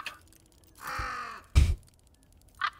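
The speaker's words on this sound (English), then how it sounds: "Now my bird won't shut up." A game bird gives a few harsh crow-like calls, one drawn-out squawk followed by shorter bursts, separated by near silence and fairly close.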